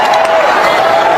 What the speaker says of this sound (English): Listen to this crowd going wild.